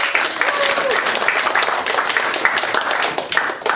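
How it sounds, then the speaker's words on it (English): Applause from an improv comedy show audience, dense close clapping that holds steadily throughout, with a whoop or voice briefly rising over it. "Can I get a round of applause for Team No Girls Allowed?"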